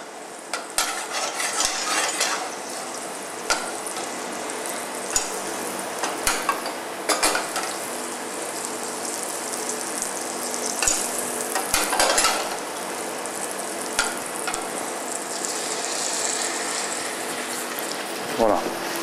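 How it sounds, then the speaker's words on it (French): A veal sweetbread studded with rosemary sears in a frying pan, giving off a steady close sizzle with occasional clicks and utensil taps, and no one talking over it. "Là, on va laisser colorer sans brûler le fond de poêlage."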